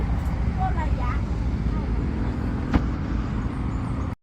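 Traffic along a rural roadside beside a canal, a steady broadband rumble of passing vehicles with faint voices in the background and a brief sharp click near the end.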